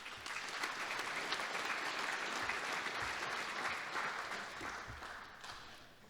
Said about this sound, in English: We can give them a quick round of applause.